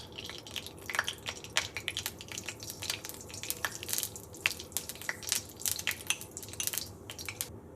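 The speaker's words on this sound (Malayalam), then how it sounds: "കടുക് പൊട്ടിയുണ്ട്." Mustard seeds splutter in hot coconut oil at the start of a Kerala chickpea sundal tempering. Rapid, irregular sharp pops and crackles sound close by over a steady sizzle, with no voices.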